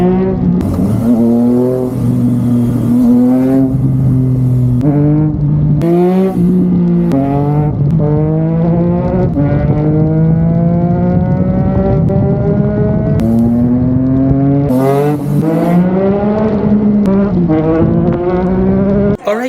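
Steady engine drone and shifting revs of vehicles in slow traffic on the Skyway toward the airport, heard from a moving motorbike, loud and continuous with rising and falling tones.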